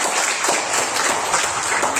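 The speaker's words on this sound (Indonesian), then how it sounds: "Kita beri tepuk tangan dulu untuk teman-teman." Classmates in a school chemistry lesson give a short round of applause, a steady dense patter of many hands clapping indoors at moderate level with no speech over it.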